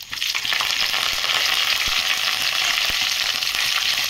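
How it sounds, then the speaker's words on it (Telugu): Chana dal, urad dal, mustard seeds and cumin sizzle steadily in hot oil as a tempering, a loud, continuous close crackle with occasional stirring clicks and no talking. "పోపు అయితే వేగుతుందండి"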